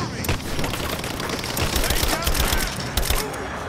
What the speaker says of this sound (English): let's just get the machine gun out